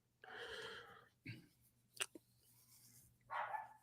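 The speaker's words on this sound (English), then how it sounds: "I'm sorry about the dogs." Dogs bark off and on in the background, a couple of short bursts and yips spread across a few seconds with quiet gaps between them.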